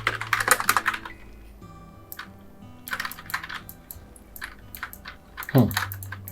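Bursts of typing on a computer keyboard, quick clusters of clicky keystrokes separated by short pauses, with a few heavier key taps, close up and without speech.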